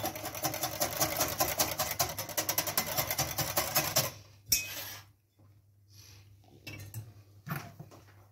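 Rapid rhythmic scraping and clinking of a whisk against a metal saucepan while mixing pastry cream, steady for about four seconds, then a few scattered clinks and scrapes.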